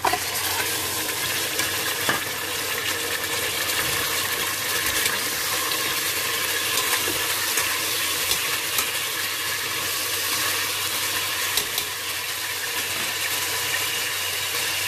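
Steady, loud sizzling of goat meat frying in a pan with wilted shallots, with occasional stirring scrapes and clinks, continuous throughout.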